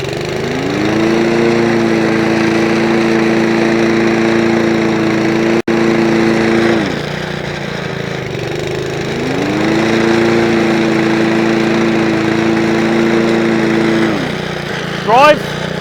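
A Lawnflight 553 HRS Pro ride-on mower runs at full throttle, a loud steady engine drone that rises and settles twice in long sustained surges, close and continuous, with a brief knock near the end.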